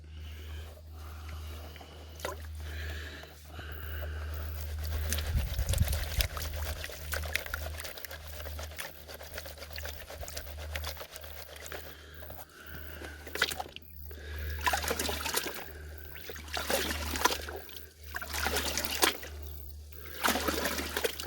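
Water and dirt wash and slosh in a gold pan during prospecting, a steady trickling, pouring swish with brief splashes that rise and fall over about twenty seconds, close by with no talking.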